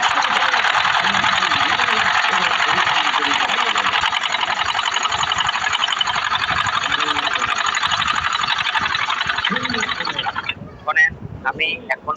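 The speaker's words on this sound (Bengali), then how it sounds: "এখান থেকে রাউন্ড করে সেলাই দেবো" A sewing machine runs fast and steady, stitching a rounded back pocket, its dense whirring continuous for about ten seconds before stopping, followed by a few brief clicks and handling sounds.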